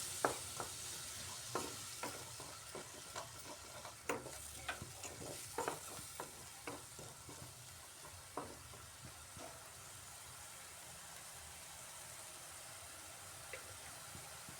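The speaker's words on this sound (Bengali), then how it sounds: "এটাকে একটু সময় কষাতে হবে টমেটোর কাঁচা গন্ধটা চলে যাওয়া পর্যন্ত" Tomato masala stir-fried in a pan for a paneer and pointed gourd curry, with a steady soft sizzle and repeated scraping clicks of a spatula through the first ten seconds, then a quieter simmering hiss with no talking.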